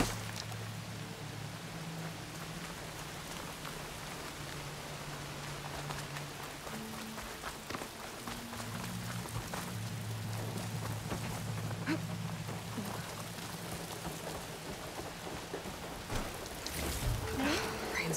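Steady heavy rain in the video game Horizon Forbidden West, a dense continuous wash with low tonal hum beneath, holding evenly throughout with a brief louder burst near the end.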